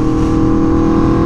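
Aprilia Tuono V4 motorcycle with an SC-Project CR-T exhaust revving steadily, a loud, close, continuous engine drone with a deep rumbling tone and no pauses.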